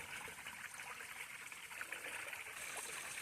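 A mountain stream on the Appalachian Trail, about halfway up a climb south of Cable Gap Shelter, trickles and splashes in a steady, close, continuous wash of water with no talk.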